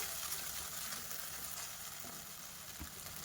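Yogurt-based paste poured into hot oil over a low gas flame for a stuffed capsicum gravy, giving a steady, close, broad sizzle that holds evenly throughout with no voices.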